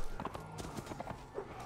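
Horse hooves clop in a rhythmic walking gait in the Warband mod Warsword Conquest, soft and fairly faint, a quick run of uneven hoof strikes with no voices.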